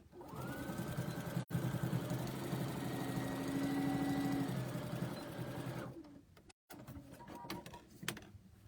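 Home sewing machine stitching a dart in a fabric bowl cozy, a fast steady mechanical whirring run of about six seconds, fairly close, followed by a brief stop and light handling clicks.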